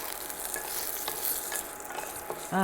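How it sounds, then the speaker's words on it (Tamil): Tamarind fries in oil with urad dal and garlic while being stirred, a close, steady sizzle broken by light scraping, with a brief voice-like sound cutting in at the very end. "நல்லா எண்ணெயில் தானே வதக்குறோம் கொஞ்சம் புளியை எடுத்து அதையும் போட்டு வதக்கிடணும்"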